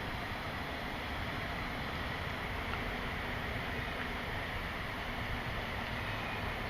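A Hiawatha light rail train passes at night, a steady, broad rumble and rush of noise that holds evenly throughout without clear peaks.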